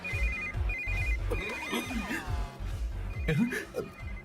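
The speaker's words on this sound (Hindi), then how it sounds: "इस वक्त दीदी का फोन" A repeating electronic phone ringtone chirps in short bursts in a Hindi-dubbed film scene, with background music or drama playing underneath and voices and sound effects mixed in.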